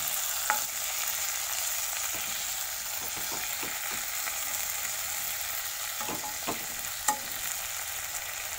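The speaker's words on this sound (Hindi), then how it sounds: "सारा फिश को एक बार मैं पलट देती हूँ।" Rohu fish fries in a pan of hot oil, a steady close sizzle broken by a few scattered clicks and knocks as the pieces are turned over, with no speech.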